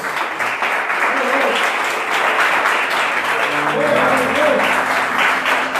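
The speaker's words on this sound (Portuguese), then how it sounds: "Aplauda o Senhor nessa noite" A church congregation claps steadily in a dense, continuous wash of applause, with voices talking and calling out over it.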